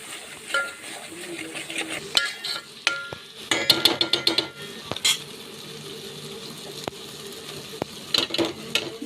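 Fish pieces stirred into a spiced village-style fish curry in a pan, with scraping and clinking of a utensil against the pan in irregular bursts over a low simmering sizzle, close and moderately loud, no talking.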